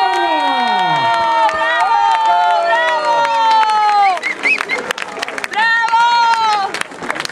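A crowd applauds and cheers after a boxing match between Brunet Zamora and Laszlo Komjathi in Paratico, a broad sustained roar under a loud announcer's voice that keeps talking throughout.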